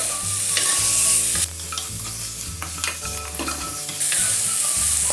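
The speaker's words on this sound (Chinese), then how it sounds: "再翻炒一下， 炒出焦糖色" Pineapple pork ribs stir-fried with sugar to caramelize, a loud, close sizzle with continual scraping and tossing of the spatula in the wok, rising and dropping in bursts; no voices.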